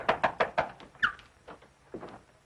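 A door in an old horror film swings open with a short, high squeak, preceded by a quick run of four knocks and followed by a couple of soft thumps, all fairly close and without talk.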